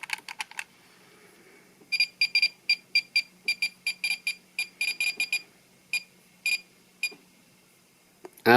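A Doron Changer transformation toy from Ninja Sentai Kakuranger, after its button is pressed three times, sends out a run of quick electronic beeps in uneven bursts and pauses, ending with a louder burst.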